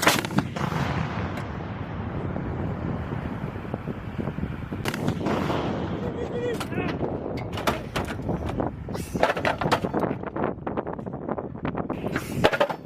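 Artillery guns fire repeatedly during a Marine live-fire exercise, with heavy booming blasts over steady wind rumble and sharp reports clustering toward the end, no talk.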